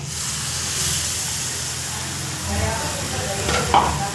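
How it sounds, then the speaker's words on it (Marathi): Water from rinsing the mixer jar is added to frying masala for a paneer curry, giving a close, steady sizzle with stirring scrapes that swells slightly near the end. "आता आपण हे मिक्सरच्या भांड्यात धुवून थोडं पाणी टाकते मी"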